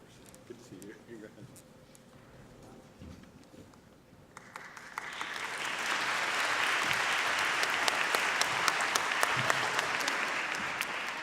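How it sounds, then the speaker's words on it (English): Sustained applause from a crowd at a graduation honors convocation, starting softly with some murmuring and then swelling into loud, steady clapping that fills the room. "let's give another round of applause"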